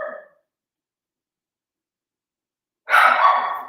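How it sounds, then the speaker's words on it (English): A dog bark played back from a phone speaker, a brief clipped yelp at the very start, then silence, then a louder, longer bark near the end, thin and tinny. "Your dog is confused why your phone is barking at her."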